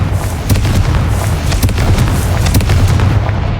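Explosive fire-spell blasts in Hogwarts Legacy, loud and dense, with a rapid string of sharp booms and cracks layered over a constant rumbling roar, and no voices.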